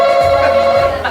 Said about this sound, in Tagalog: Bakit telepono pala ito?